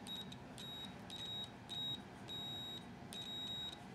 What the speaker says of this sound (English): I got my multimeter out and it's set to find continuity between two things